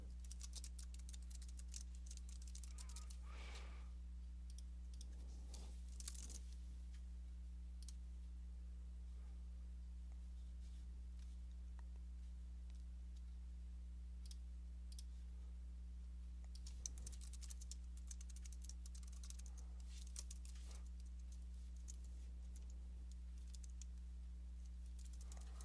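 Keystrokes on a computer keyboard as a name is typed into a website sign-up form, a faint run of light clicks over a steady low hum, with no talk.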